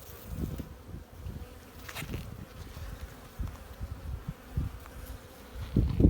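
A dense, low buzzing of many honey bees inside an open hive in February fills the space, rising and falling in uneven pulses up close.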